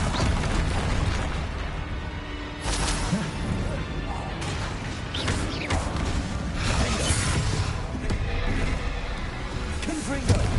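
Confringo fire spells burst repeatedly in Hogwarts Legacy combat, a dense, loud run of blasts and whooshes over continuous game noise, with a voice chanting spell names over the top.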